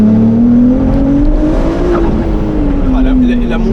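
Ferrari 296 GTS convertible, 830 hp, pulling hard from low revs: a loud, close engine note that climbs steadily in pitch, continuous throughout, with a voice speaking over it.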